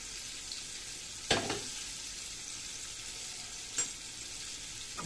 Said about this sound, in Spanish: Boquerones, el rico boquerón, frito.